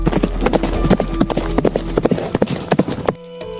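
A startled horse's hooves clatter in a fast, loud, irregular clip-clop close by, with some background voices, before the sound cuts off abruptly.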